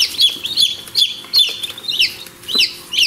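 Newly hatched chicks in an incubator peep in high, repeated bursts, several close chirps arriving in an uneven rhythm with no talking.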